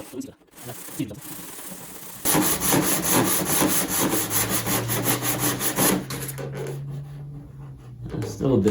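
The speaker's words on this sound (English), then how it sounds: "So to sand it, what I've done is I've applied a little CA into the fiber of the cardboard there." Sanding CA-hardened cardboard on a large super-scale RC A6 Intruder model: close, rhythmic rasping strokes start abruptly after a quiet moment and continue steadily, followed by a low humming tone and softer rubbing.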